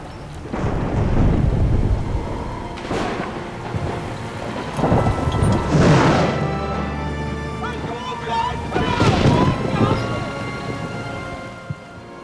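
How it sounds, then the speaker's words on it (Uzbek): Thunderstorm sound effect with steady heavy rain on surfaces and several loud rolling thunder crashes, near and booming, spaced across the stretch with no talking. "Qattiq bo'ron chiqib, ko'lda do'lqin ko'tarilayotdi."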